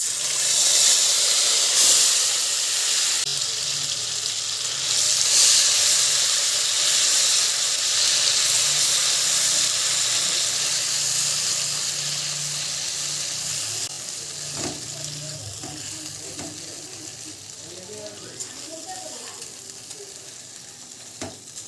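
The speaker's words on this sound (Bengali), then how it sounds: "এখানে আদা, টমেটো, কাজু বাদাম আর পোস্ত একসঙ্গে বেটে নিয়েছি, এবার এটাকে দিয়ে দেবো পেস্টটা" A wet paste of ginger, tomato, cashew and poppy seed sizzles and hisses steadily in a hot pan, with occasional stirring scrapes, the frying slowly easing in intensity toward the end.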